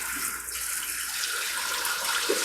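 Shower water runs steadily in the compact bathroom of a 2022 Palomino Real-Lite HS-1806 truck camper, a continuous close hiss of spray with no voices.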